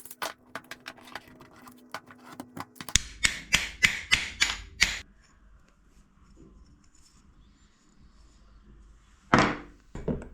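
Sharp metallic taps from a screwdriver driving out the piston pin on a Stihl MS 250 chainsaw, a quick run of about eight close, loud strikes, then quiet, then one more heavier knock near the end, with a few lighter clicks at the start.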